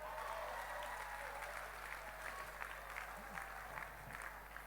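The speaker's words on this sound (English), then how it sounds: "I'm going to make everybody clap on that one." A seminar audience applauding, a steady close wash of many hands clapping that holds at an even level the whole time, with a faint low hum underneath.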